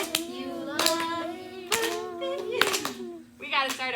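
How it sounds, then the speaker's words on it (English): A group of children clapping along to a spoken chant about books, with sharp claps falling in a loose rhythm under a leading voice that talks and sings throughout. "You guys are clapping with me."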